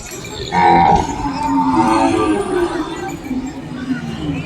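Ongole cattle low out at a crowded bull market in Kodada, Telangana. A loud, drawn-out moo rises early and carries for several seconds over steady crowd murmur and nearby talk.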